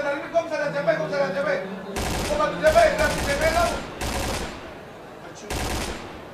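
Bursts of rapid gunfire in a video game esports semifinal come in several separate volleys between pauses, under excited commentary from casters.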